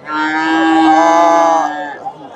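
A Friesian heifer at a cattle market gives one long, loud, close moo lasting nearly two seconds, which then trails off into quiet.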